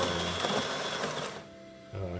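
DeLonghi Magnifica XS espresso machine pulling a test shot after a full tune-up with a replaced brew assembly and gasket, a steady mechanical buzzing hum that cuts out briefly then restarts, with a voice over it.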